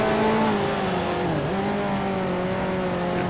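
A 1955 Formula One race car engine in Grand Prix Legends at the Argentine Grand Prix, a loud, steady, buzzing drone that dips briefly in pitch as the car shifts down and brakes, then holds steady.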